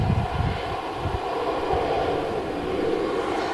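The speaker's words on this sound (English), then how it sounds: "EasyJet Europe just started its roll, A319." An EasyJet Europe Airbus A319 jet begins its take-off roll, a steady broad engine roar spreading at moderate distance, with low rumbling bursts near the start.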